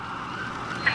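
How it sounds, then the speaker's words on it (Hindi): Police siren sounding in a song, a steady wailing tone rising and holding at moderate loudness throughout the short moment, with no voices. "पुलिस का सायरन तो"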